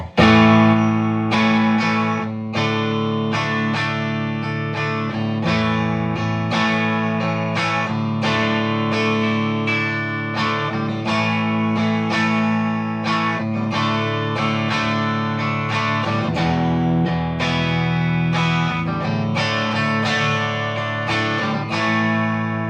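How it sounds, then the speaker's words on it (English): A Fender Stratocaster strums chords through an Allen Custom Vibro Champ tube amp slightly above conversational volume, with a bright, chiming and full-bodied tone, played steadily at moderate volume with no voices. "here's the sound of a Strat through it at a little bit higher than conversational volume."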